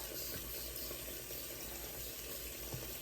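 Steady running water from a tap pours continuously over collard greens being rinsed in a sink, a broad even rush with no voices.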